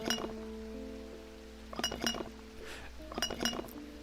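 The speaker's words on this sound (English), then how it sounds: "when I shake it, it rattles" A cork-stoppered green glass bottle in a video game rattles and clinks when shaken, in three quick bursts of glassy chinks separated by quiet pauses, with no voices.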